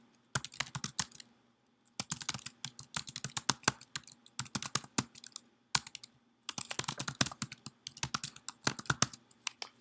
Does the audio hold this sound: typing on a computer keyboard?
yes